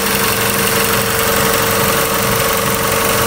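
A Ford Escape 2.3-litre four-cylinder 4x4 automatic engine idles steadily and quietly up close, a smooth continuous hum with a faint mechanical ticking and no voices.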